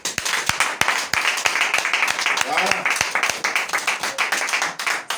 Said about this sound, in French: Donne-lui offrande d'acclamation au Seigneur